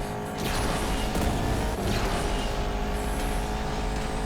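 A heavy racing car, the Devo, drives in the video game Asphalt 8, its engine droning steadily and loud with a constant mechanical whine and occasional swooshes.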